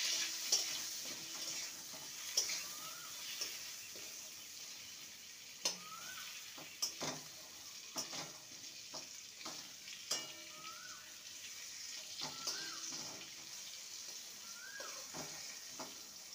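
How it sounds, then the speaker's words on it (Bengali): Brinjal seasoned with salt and turmeric fries in a pan, a quiet steady sizzle broken by repeated clicks and scrapes of stirring over about sixteen seconds, with no voices. "বেগুনটাকে ভালো করে ভেজে নেব।"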